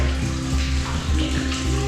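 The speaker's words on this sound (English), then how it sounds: "there's water just streaming down the steps" Water streams down steps inside Olentangy Caverns, a brief, steady broadband rush and splash close by with no voices.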